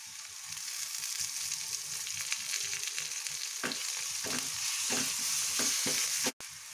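A ground paste of garlic, dried chili and onion frying in coconut oil, with a steady, close hiss and a series of rhythmic spatula scrapes toward the end.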